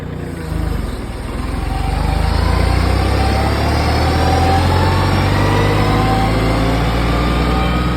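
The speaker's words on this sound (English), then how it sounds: "we're just going to see if it'll go all the way up to 2500 RPM, 2600 RPM from a standstill" A Kioti CK2610 tractor's engine in four-wheel drive, pulling up a hill from a standstill, revs steadily up toward about 2500 RPM in a loud, sustained mechanical drone with no voices.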